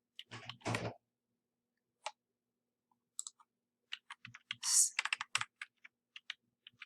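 Typing on a computer keyboard, sparse bursts of sharp clicking keystrokes with short pauses between them, close and clear against near silence.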